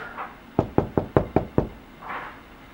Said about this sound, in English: Then they drove home and knocked on the front door.